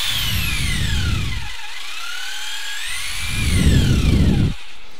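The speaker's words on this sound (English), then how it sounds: "we're going to run the drill" An electric drill runs close and loud, its motor whine sliding down and then back up in pitch as it speeds and slows, with a heavier grinding burst near the end.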